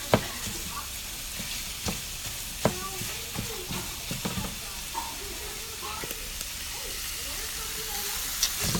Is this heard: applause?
no